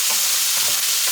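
Sizzling meat for a lasagne stirred around a frying pan, with several scraping sweeps of the utensil over a continuous close crackle, no talking.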